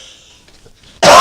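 A single loud, close cough bursts out at the end after near-silence, with a little faint background noise before it.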